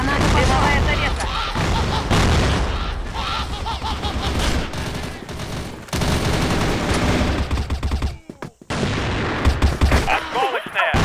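Grenade explosions and rapid gunfire in the CrossFire shooter game: dense, loud, continuous bursts of automatic fire and booms with brief gaps, a voice speaking over the battle noise.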